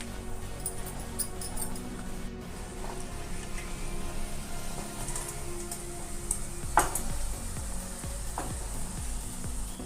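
An egg Mughlai paratha roasts in a pan while it is flipped side to side. Steady sizzling frying runs throughout, with a few soft clinks of a utensil against the pan.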